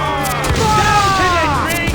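Ship cannons firing during a naval battle in Assassin's Creed IV: Black Flag, heavy booms and rumbling blasts rolling in close succession, mixed with shouting crew voices and ringing tones.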